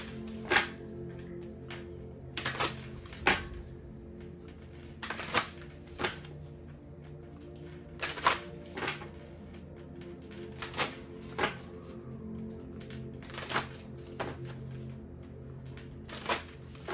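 Tarot cards being shuffled in repeated short bursts, each a crisp riffling rush followed by pauses and softer handling sounds; close by, no talking.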